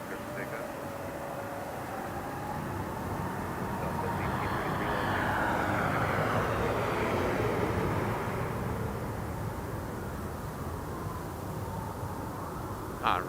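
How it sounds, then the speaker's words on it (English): Hawaiian Airlines jet departing Las Vegas Harry Reid International Airport, a steady broad engine roar that swells toward the middle and slowly fades, heard from a spotting position with some talk over it. "this is going to be Hawaiian Airlines HAL 31 heading over to OGG"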